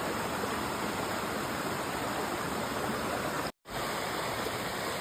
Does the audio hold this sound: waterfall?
yes